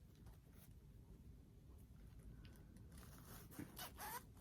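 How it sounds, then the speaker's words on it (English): A stuck clothing-style zipper being tugged open: faint scratchy rasps that build into a few louder, sharper zipping bursts near the end, with no talking. "The zipper is stuck."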